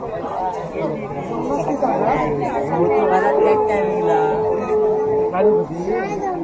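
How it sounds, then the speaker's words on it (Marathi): Dense crowd chatter at a busy beach during the Kunkeshwar Mahashivratri fair, a continuous babble of many voices close around, with a sustained whistle or horn-like tone cutting through midway. "तुफान गर्दी आहे"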